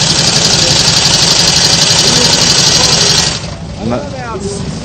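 A loud motorcycle engine roars at close range at a motorcycle rally in Sturgis, holding a steady rumble for about three seconds before dropping sharply, leaving quieter background sound with brief voices.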